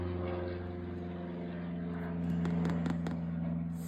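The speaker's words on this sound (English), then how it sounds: "apologies for the airplanes flying by." An airplane flies overhead, a steady low propeller drone that grows slightly louder midway. A few light clicks sit on top of it, with no talking.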